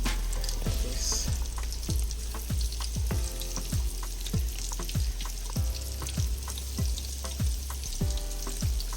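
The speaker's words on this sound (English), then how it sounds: "fry the fish. Just drench it in some all-purpose seasoning flour" Flour-dredged fish frying in hot oil for Ghanaian waakye, a steady loud sizzle with repeated crackling bursts and soft kitchen clatter, no talking.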